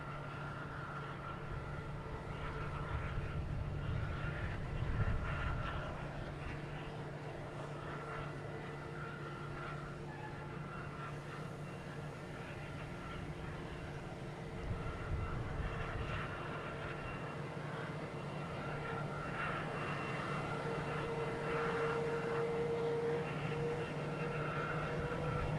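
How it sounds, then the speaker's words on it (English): An airplane approaching to land at Boston Logan Airport with its landing gear down, heard as a steady, moderately distant engine drone that holds through the whole stretch with no talk over it. "The landing gear is down."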